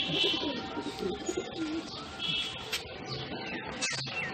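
Madrasi racing pigeons coo softly in a loft amid chirps and shuffling, a dense mix of bird sounds at moderate distance.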